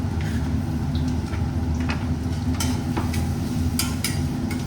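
Garlic dropped into a hot pan sizzles steadily under a low kitchen hum, with a few light scraping clinks of a utensil stirring.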